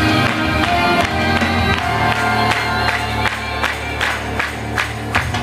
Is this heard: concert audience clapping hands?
yes